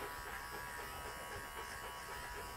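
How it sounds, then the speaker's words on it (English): An electric dog clipper set to the nine blade setting runs with a steady, even motor buzz, continuous and fairly quiet, with no speech over it. "now without having to shut my clipper off, I'm going to switch it all the way over to the nine blade setting"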